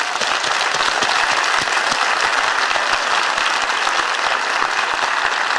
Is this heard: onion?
no